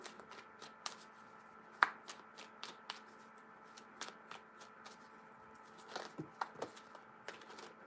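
Tarot cards being shuffled by hand in a quiet room: a close run of soft, papery riffles and taps in an uneven rhythm, with a few sharper snaps standing out.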